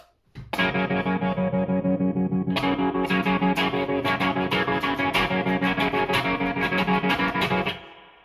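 Electric guitar chords from a Squier Vintage Modified Jaguar ring out steadily with a shimmering chorus effect and a fast pulsing tremolo, loud and continuous, ending in a short fade.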